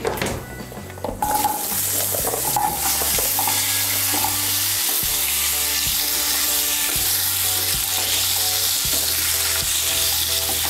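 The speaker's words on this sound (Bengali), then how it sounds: "এর মধ্যে আমি কেটে রাখা মিষ্টি কুমড়োটা দিয়ে দেব" Cut sweet pumpkin, about 500 grams, fries loudly in hot oil, with a continuous close sizzle and repeated scraping stirs of a spatula in the pan; no one speaks.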